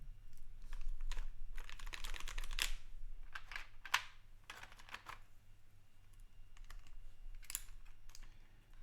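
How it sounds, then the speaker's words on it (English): Crisp clacking keystrokes on a Tofu65 keyboard fitted with Kailh Speed Copper switches, typed in quick uneven bursts with brief pauses, close and fairly quiet, with a low hum underneath. "So now just put in the keycaps and do some sound testing."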